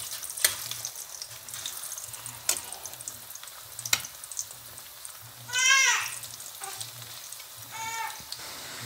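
Plantain slices frying in hot oil give a soft, steady sizzle, broken by sharp clicks and a couple of short, bright rattling bursts of handling.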